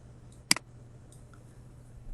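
A single quiet computer mouse click, made while pressing through document pages on screen, stands alone in a hushed room with a faint second tick just after.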